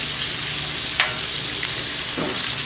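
Food fries on a hot Blackstone griddle, a steady close crackling sizzle with a few sharper pops and a brief scrape as something is turned over.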